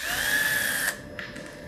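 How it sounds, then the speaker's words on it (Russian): A power tool or impact driver whirs loudly for about a second while unscrewing a wheel from an electric motor rotor, then stops with a couple of short metallic clicks. "Сейчас откручиваем обратно прикрученное колесо."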